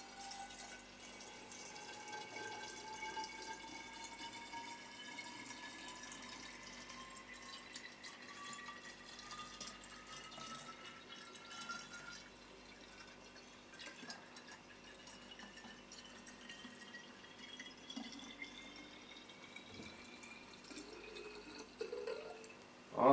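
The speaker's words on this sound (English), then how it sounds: "And then I'm going to pour this back in the bottle" Hibiscus flower chia seed water trickles steadily back into a bottle, a soft continuous liquid pour with faint dripping, quiet and close, ending with a small knock.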